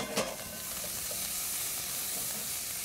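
Garlic hits shallots and butter in a hot pan, a steady, bright sizzle and hiss with a brief clatter at the start, close and even throughout.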